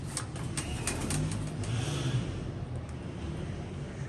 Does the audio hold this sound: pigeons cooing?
yes